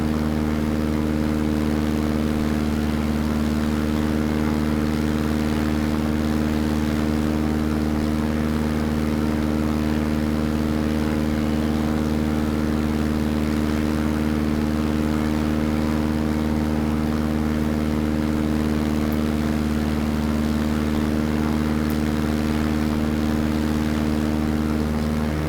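A propeller airplane engine in Microsoft Flight Simulator drones steadily at constant power: an even, continuous hum with no breaks and no voices.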